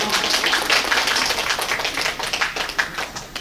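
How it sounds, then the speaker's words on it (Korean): Dense applause from an audience at a summer poetry recital follows a combined choir and choral recitation, a steady wash of many hands clapping that thins slightly toward the end. "다시 한번 큰 박수 부탁드립니다."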